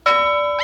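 A small bell shaken by hand gives a bright ringing tone that sustains steadily, then a second jingling burst at the end, close and clear with no voices.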